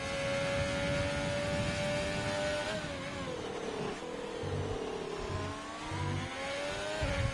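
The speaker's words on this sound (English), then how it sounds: "Beeman is starting to hot lap in his Renault" A Renault race car in a racing video game holds a steady, loud engine drone on a hot lap, its pitch rising and dipping through gear changes and corners, with no talk over it.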